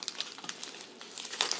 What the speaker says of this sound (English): I'm just gonna tear the whole envelope because I'm fed up already